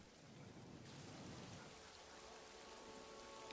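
Steady rain pours over a camp in a World War trench strategy game, a dense continuous hiss with low rumbling thunder beneath, constant and close throughout, no voices.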